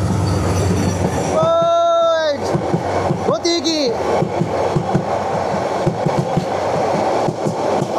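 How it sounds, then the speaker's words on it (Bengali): Paryatak Express train running fast past a level crossing near Dohazari station, a steady rolling rumble with rhythmic wheel clatter and two short horn blasts near the start, while someone talks over it. "ক্রসিংয়ের পর্যটক এক্সপ্রেস ট্রেন কিন্তু চলে এসেছে ভাই"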